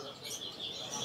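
Many Jala Kebo birds chirp and twitter together in a continuous, busy chorus, fairly close and moderately loud.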